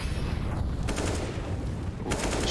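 Gunfire in Counter-Strike during an ESL Pro League match, a short burst of sharp shots near the start and another cluster near the end over a dull low rumble of game ambience.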